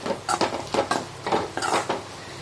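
Beans pulav masala with coriander leaves sautés in oil while a ladle stirs it, giving rhythmic scraping strokes against the pan about every half second over a light sizzle, close and with no voices.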